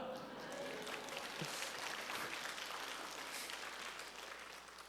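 A church prayer-meeting audience applauds, a faint, steady wash of clapping from a crowd that carries on for several seconds before beginning to fade.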